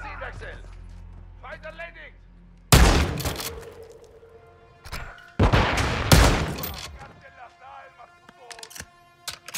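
Bursts of rapid gunfire in two loud volleys in Call of Duty: Modern Warfare II (2022), with someone talking before, between and after the shots.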